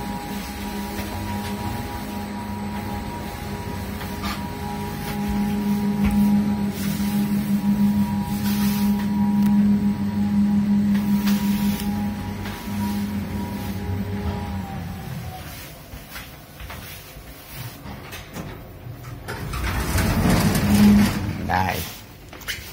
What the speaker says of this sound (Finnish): Mä sanoisin tästä hissistä, että tässä on tosi jännä ääni.